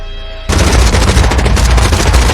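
A sudden burst of heavy, sustained gunfire erupts out of a quieter stretch, loud and dense, like rapid automatic weapons fire with booming reports during an armed assault on a man.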